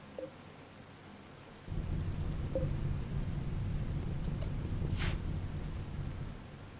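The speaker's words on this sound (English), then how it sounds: "I'm actually just kind of glad it's raining" Heavy rain starts suddenly and pours steadily in a colony-building video game battle, a dense roar with a faint thunder rumble, no talk over it.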